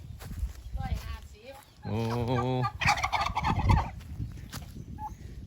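Turkeys gobble in a rapid, rattling burst close by on a mixed farm, with other bird calls and a person talking around them.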